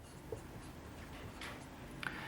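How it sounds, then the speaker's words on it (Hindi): A lecturer writes on a board, making faint, continuous scratching and a few light taps in a quiet room. "तो इसको लिखता हूं"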